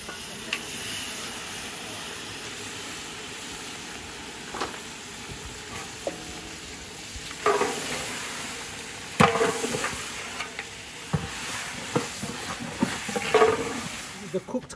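Eight kilograms of goat meat sizzle and hiss in a large curry pot, with scattered clanks and stirring knocks growing busier toward the end, and a voice talking faintly, in Bangladesh.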